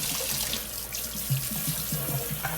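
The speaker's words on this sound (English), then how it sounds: "I got my water on hot, so I can break as much loose as possible" Hot water from a sink sprayer hisses steadily onto a cast iron pan as it is rinsed clean, close and continuous, with soft pulsing knocks underneath.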